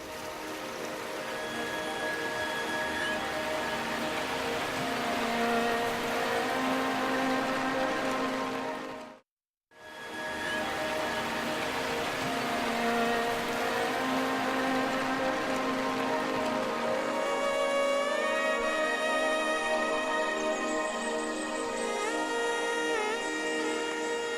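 Heavy rain falls steadily in elephant country, a dense, continuous drumming on surfaces that breaks for a moment of silence and then resumes, later joined by musical tones layered over the downpour.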